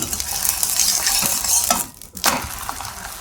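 Food frying in oil in a pan, a loud close sizzle with scraping and stirring from a spatula, briefly dipping quiet before the hiss returns.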